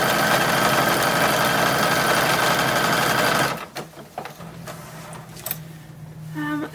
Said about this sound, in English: I'm going to go ahead and do it by machine